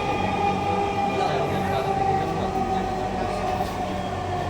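A metro rail train runs toward Motijheel, its steady low rumble and whining hum filling the carriage at close range with no pause, and a few faint tonal traces over the drone.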